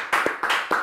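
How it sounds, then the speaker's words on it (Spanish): A few separate bursts of hand clapping in honor of a doctor, short and close, with gaps between the claps. "Este aplauso es para usted."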